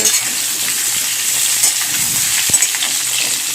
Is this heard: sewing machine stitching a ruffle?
no